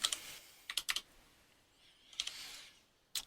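Keys clatter on a computer keyboard in short, quick bursts of a few strokes each, close and crisp, separated by brief pauses with no voices.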